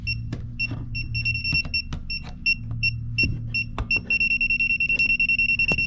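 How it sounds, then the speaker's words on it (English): A non-contact voltage (NCV) tester held near a live light switch chirps in repeated bright electronic beeps, irregular at first and then a fast steady run, over a low electrical hum with occasional clicks and knocks. "part that says NCV next to voltage, it'll start beeping at you."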